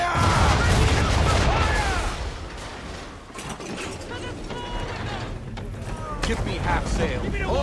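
Ship cannon fire in Assassin's Creed III rumbles as heavy, dense booms at first, then settles into ongoing battle noise with creaking mechanisms, while voices shout over it.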